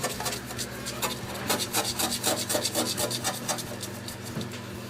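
Steady hand scraping across a surface during restoration work, with rapid repeated rasping strokes in a continuous rhythm that swells and eases, close up with no voices.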